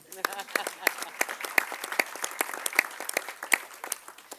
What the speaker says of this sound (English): You can clap on that, too.